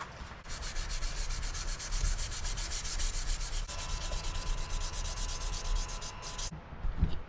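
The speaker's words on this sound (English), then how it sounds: "then 600 grit hand sanding, 5 minutes, 800 grit hand sanding" A knife blade made from saw steel is hand sanded with 600 grit sandpaper in quick, steady back-and-forth strokes, a close, rhythmic scratchy rubbing that runs continuously before stopping near the end.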